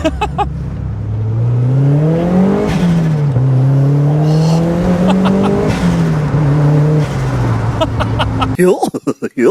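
A turbocharged Mazda MX-5 engine is heard from inside while driving. It is loud and close, with the pitch rising and falling through revs and gear changes before cutting off abruptly near the end.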